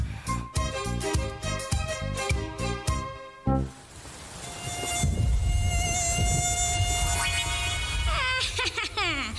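A mosquito buzzes with a high, whining drone that wavers in pitch, close and prominent, following a stretch of rhythmic musical tones.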